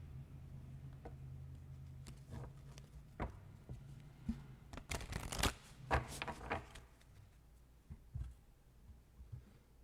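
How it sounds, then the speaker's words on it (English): Tarot cards are shuffled close up in a series of soft riffling flutters and taps, building to a busier burst midway, then a few quieter slaps. "Shuffle the cards."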